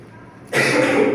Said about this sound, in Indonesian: Mohon maaf ya Bapak agak batuk.